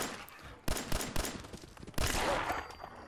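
Several bursts of rapid gunfire from the video game Fallout 4, fairly quiet, with short volleys spaced across a few seconds and no talking.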